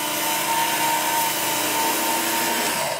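A Work Sharp Ken Onion Edition variable-speed knife sharpener running against a blade's flat back edge, a steady loud whirring grind with a constant motor tone throughout.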